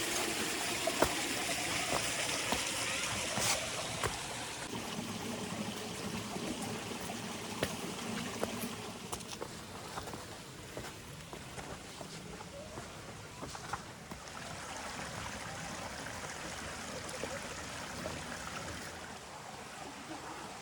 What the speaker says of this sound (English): in this valley we have a water flow